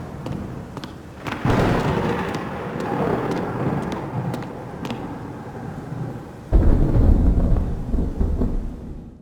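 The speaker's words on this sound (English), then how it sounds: "I added thunder and lightning." Rolling thunder in a horror video game rumbles loudly with a crackling onset, then a second heavy boom swells near the end.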